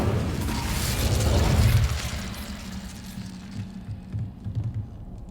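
An Incendio fire spell in Hogwarts Legacy flares with a loud whooshing, crackling burst in the first two seconds, then settles into quieter mechanical rattling and clatter.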